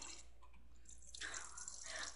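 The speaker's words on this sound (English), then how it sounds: "Let me just get in the shower." Shower water trickles and drips in a Roblox game bathroom, a faint, soft, steady splashing hiss that swells slightly in the second half, with no talk.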